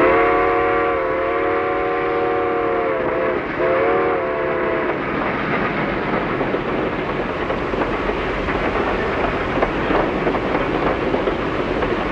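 A 1940s train rolls steadily along the rails, opening with a long sustained whistle over a loud rumble, then settling into continuous rattling wheel noise with faint rhythmic clatter, no voices.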